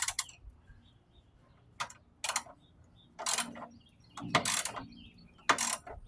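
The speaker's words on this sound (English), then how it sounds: "Now I'm going to switch over to my 18-inch ratchet just to make sure that I get good hand tightening on them." An 18-inch ratchet hand-tightening motor mount bolts on a 2007-2012 Nissan Altima: short bursts of clicking pawl strokes, spaced irregularly, fairly quiet and close with no talk.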